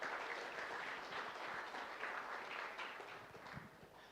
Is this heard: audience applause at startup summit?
yes